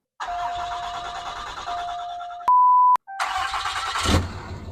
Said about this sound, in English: Let all your beeping stop on the dash. Once it stops, we'll go ahead and start it.